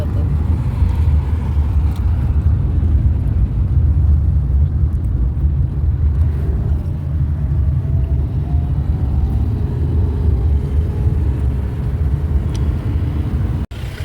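A car drives through heavy traffic on a winding ghat road, its engine and road rumble loud and continuous throughout, with a sharp knock near the end.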